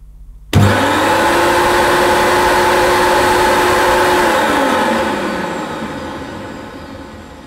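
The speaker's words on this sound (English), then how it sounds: "let's just switch the vacuum motor on" A Rug Doctor Mighty Pro X3 carpet washer's vacuum motor switches on abruptly with a loud, steady whirring drone that holds for several seconds, then slowly winds down in pitch and volume.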